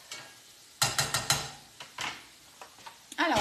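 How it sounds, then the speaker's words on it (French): Pears stirred in a dry frying pan without fat, giving a quick series of scraping, clinking strokes followed by a few lighter taps, close and fairly quiet. "vous les remuez quand même régulièrement parce que comme on n'a pas de matière grasse, sinon ça va coller dans la poêle"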